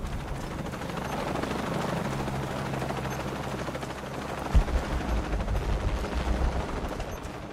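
Steady rotor thrum of a helicopter in the video game Shadow of the Tomb Raider, a continuous low drone mixed with bursts of gunfire and a sharp impact partway through.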